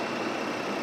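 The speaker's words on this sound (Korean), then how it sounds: "본네트 열고 엔진 소리 한번 들려드릴게요" With the hood open, the engine of a 2009 Genesis sedan idles quietly and evenly, a smooth, faint, steady hum with no knocks or belt squeal.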